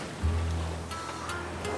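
Waves slosh against a small sailboat out at sea, with a steady low rumbling wash and a brief surge near the start, no voices.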